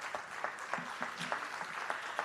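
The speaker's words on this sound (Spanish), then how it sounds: "Les pido un fuerte aplauso" A small audience at an event on women and religion gives a quiet round of applause for the speakers, with sparse, distinct claps in an uneven rhythm at a fair distance and some low murmuring.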